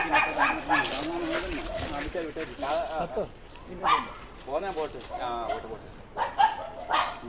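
A street dog trapped in a drinking-water well yelps and barks in short bursts from close by, mixed with people talking over it during the rescue.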